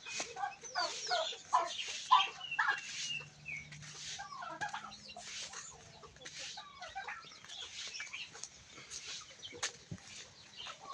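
Chickens cluck in repeated bursts around a mixed farm garden in Thailand, some calls close and loud, others farther off, with a low steady hum beneath and occasional wing flaps.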